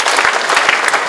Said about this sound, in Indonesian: Tepuk tangan sekali lagi untuk Kementerian